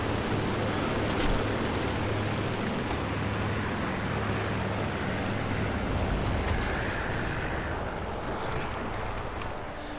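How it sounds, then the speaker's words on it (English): Engines of a PV2-D Harpoon plane in the game War Thunder, giving a dense, steady, loud roar that holds unchanged for the whole stretch with no talking over it. "Just listen to the engines."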